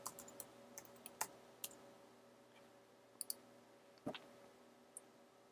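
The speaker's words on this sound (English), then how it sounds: "type in that password" A password being entered on a computer keyboard: soft, scattered key clicks in short bursts and single taps, faint and close, with pauses between them.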